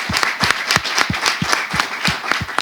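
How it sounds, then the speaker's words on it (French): An audience in a talk show studio claps in a steady, evenly paced rhythm, about three sharp beats per second, fairly close and continuous throughout. "on va applaudir"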